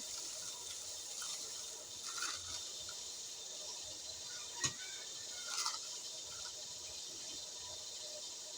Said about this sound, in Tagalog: Siyempre, maghugas tayo kamay.